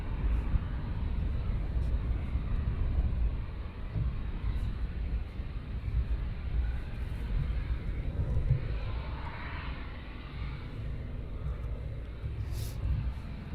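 Military jet engines, F-15s at RAF Lakenheath airbase, spooling up in the background as a steady low broadband roar and rumble, distant and continuous without a break.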